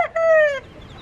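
A small white Bantam chicken gives one short, loud, close crowing-like squawk, clear and alone.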